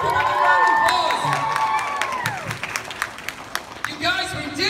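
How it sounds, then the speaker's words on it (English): A convention crowd at a Miraculous Ladybug panel at Stan Lee's LA Comic Con claps, cheers and shouts, including children's voices, in a loud mixed roar that thins into scattered claps and a few voices near the end. "Give it a round of applause."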